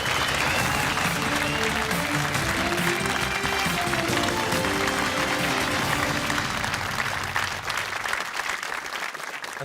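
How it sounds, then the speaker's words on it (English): A studio audience at a BBC quiz show breaks into sustained, dense applause, steady and loud throughout, thinning slightly at the very end with faint voices underneath. "and a round of applause for being so great."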